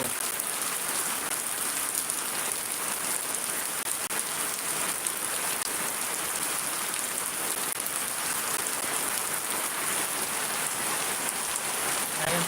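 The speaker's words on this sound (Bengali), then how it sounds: "কত বৃষ্টি পড়বো" Heavy rain pours down steadily in Shariatpur, Bangladesh, a dense, continuous hiss of drops on surfaces that stays loud and even throughout.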